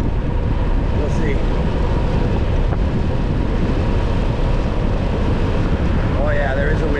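Steady, loud wind roars across the microphone throughout a bicycle descent down the Big Sur coast from Post Ranch, a broad buffeting rush with no pauses and a faint whistle near the end.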